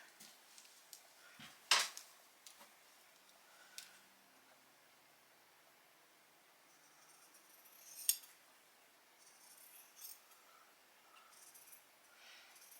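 Scissors snip through plaid flannel shirt fabric, making a few faint, quiet crisp cuts separated by pauses in an otherwise hushed room.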